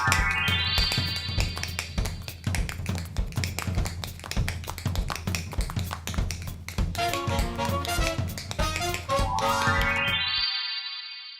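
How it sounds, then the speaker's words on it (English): Tap dancing shoes strike the floor in rapid, crisp rhythmic taps that run throughout, with a rising chime-like tone sweeping up near the start and again at the end. "Tap dancing."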